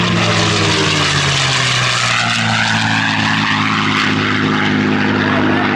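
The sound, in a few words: airplane flying past on a photo pass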